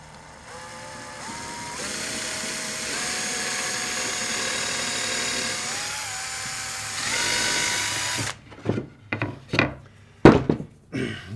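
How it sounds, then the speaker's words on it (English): Power drill boring into wood to repair a stripped screw hole, a steady whine rising in pitch over several seconds, then stopping, followed by a few sharp knocks and clunks. "Let's drill it again."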